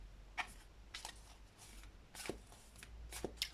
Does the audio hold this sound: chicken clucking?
no